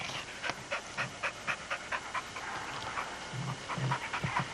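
Dogs panting in quick rhythmic bursts at close range, with a faint whimper and no talking.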